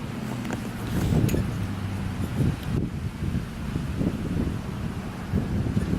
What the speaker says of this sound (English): I don't know if the camera's picking up the wind sound or not.